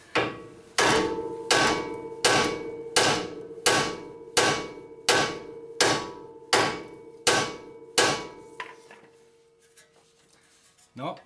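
A heavy hammer strikes a stuck Honda Accord wheel hub about a dozen times in a steady rhythm, each blow ringing loud and close before the pounding stops.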